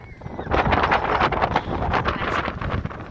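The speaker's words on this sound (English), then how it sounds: "my camera might blow away because it's just a little bit windy up here" Strong wind gusts buffet the microphone at a hilltop campsite in Wales, producing a loud, continuous rushing roar with fluctuating bursts throughout.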